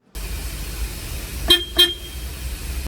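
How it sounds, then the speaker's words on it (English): Two short honks from the horn of a 2024 Tata Intra V70 pickup truck, sounding over a steady low background hum. "This is how the horn sounds like."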